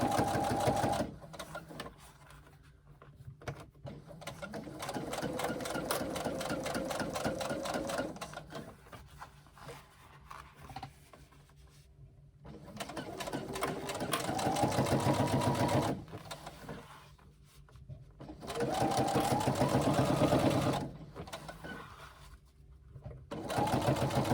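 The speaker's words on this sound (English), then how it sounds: "And now I'm going to keep stitching around on this line that I stitched before." A sewing machine stitches around a fabric carry-all tote, close and rapid mechanical chattering in long runs broken by short pauses as the work is repositioned.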